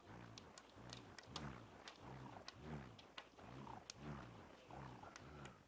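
A spun bullroarer, an ancient American instrument, gives a steady pulsing whirr that swells and fades in regular beats, close and fairly loud with no talk.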